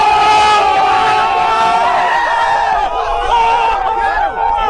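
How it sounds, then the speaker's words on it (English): Crowd 'ooh' sound effect, a loud sustained chorus of many voices rising and wavering together for several seconds, dense and close with no clear speech. "Can I get a ooh sound effect?"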